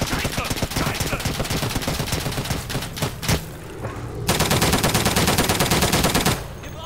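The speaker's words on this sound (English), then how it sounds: "I didn't realize you could shoot through these walls." Gunfire in a shooter video game tears through walls in sustained automatic bursts, loud and close, pausing briefly around the midpoint before a second dense volley resumes.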